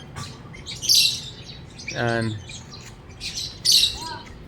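A pet bird gives sharp, loud squawks and a harsh rasping call in separate bursts, close by, with a brief spoken word among them.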